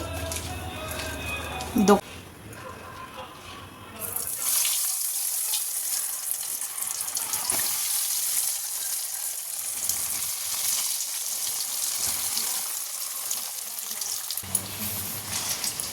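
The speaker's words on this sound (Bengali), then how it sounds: "এখন এই রান্নাঘরে করবো ভেজিটেবিল চপগুলোকে ফ্রাই, আর সন্ধেবেলার জলখাবারটা ভালোই জমে যাবে।" Vegetable chops fry in hot oil in a home kitchen, a steady crackling sizzle that swells louder after a few seconds and runs on beneath occasional handling clatter.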